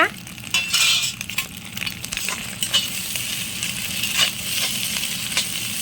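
Chilli and egg frying in a pan for chicken macaroni, a bright steady sizzle broken by repeated scraping and clinking as a utensil stirs the mix, close and loud with no voices.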